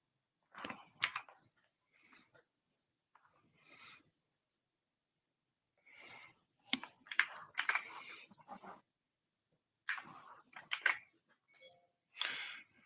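Hotkeys tapped on a desktop computer keyboard make close, crisp clicking keystrokes in short irregular bursts with quiet pauses between them, and no other sound.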